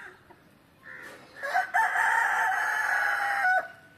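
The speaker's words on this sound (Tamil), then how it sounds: "அது கருங்கோழி சேவல், அது பெருசாக தான் வாங்கினேன்." A black country rooster crows once in a long, drawn-out call, loud and fairly near, rising and holding before cutting off, with faint outdoor ambience before it.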